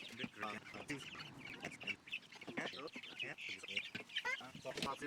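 A flock of 4-week-old meat chickens clucks and chatters continuously nearby, a busy flock of overlapping clucks and squawks at fairly low volume.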